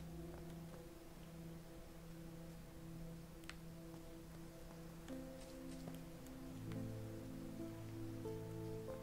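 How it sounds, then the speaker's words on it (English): Soft, steady rain patters in the crafting game Deiland, a faint even hiss that sits beneath sustained background music tones. "Oh, it's raining."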